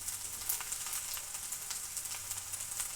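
Homemade ginger paste sizzles steadily in a hot pan of oil, a close, continuous crackling hiss with small bursts throughout, no voices.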